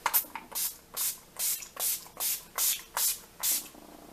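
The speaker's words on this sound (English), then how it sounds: "I'm just going to spray that all over my face." Short hissing sprays from a makeup setting spray pump bottle onto a face, about nine quick spritzes in a steady rhythm, close up with no talking.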